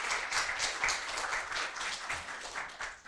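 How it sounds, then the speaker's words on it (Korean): Lecture audience gives a round of applause after a university professor's talk, with moderately dense clapping and some individually audible claps, steady and without talk. "큰 박수 부탁드립니다."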